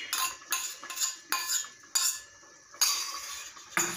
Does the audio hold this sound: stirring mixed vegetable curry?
yes